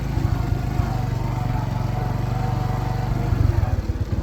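A motorcycle on a muddy road runs with a steady, throbbing engine drone that stays loud and close throughout the ride, with no speech over it.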